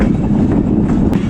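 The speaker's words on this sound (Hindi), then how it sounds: "यार्ड में एंटर हो रही है अभी ट्रेन।" The Mehr Express AC standard train rolls into a rail yard in Pakistan, giving a loud, steady, close rumble of wheels and carriages without a break.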